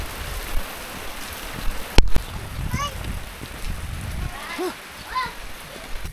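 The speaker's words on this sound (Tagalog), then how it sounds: "Payong daw si Janet, ulan." Rain falls steadily on an outdoor path in the Philippines while people walk and talk nearby, with a sharp knock at about two seconds and scattered chirping calls under the continuous patter.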